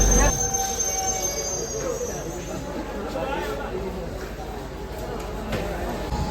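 A train pulls in at Jagiroad station with a steady rolling rumble and a thin wheel squeal at the start, while someone talks over it nearby.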